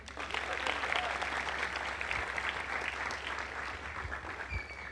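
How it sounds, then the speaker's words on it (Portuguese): A sustained burst of audience applause rings out at a church talk on marriage and kinds of value, steady dense clapping filling the room at moderate level with no voices over it. "Um aplauso para a balança."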